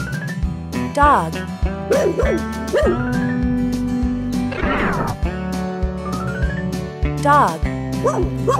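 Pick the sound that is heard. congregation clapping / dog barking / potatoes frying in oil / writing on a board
dog barking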